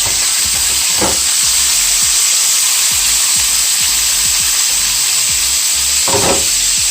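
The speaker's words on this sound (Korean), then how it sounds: "자, 이렇게 파와 마늘 향이 나도록 기름에 볶아주고요." Green onion and onion stir-fry in hot oil with a loud, constant sizzle, punctuated by occasional scrapes of a utensil stirring the pan.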